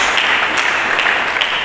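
A church congregation applauds steadily, a dense wash of clapping from many hands that holds at an even level throughout.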